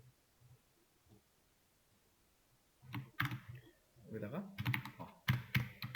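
Computer keyboard typing with Tab key presses during a Linux class: a faint quiet start, then a burst of quick, close, uneven key clicks from about three seconds on, with a short spoken phrase mixed in.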